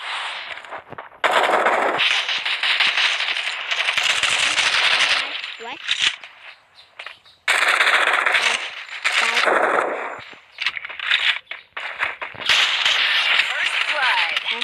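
Enemies in a video game fire machine guns in long, loud, rapid bursts that sound near. The bursts are broken by short gaps and sharp single shots.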